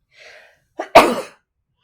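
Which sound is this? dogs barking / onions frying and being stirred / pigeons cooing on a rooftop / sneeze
sneeze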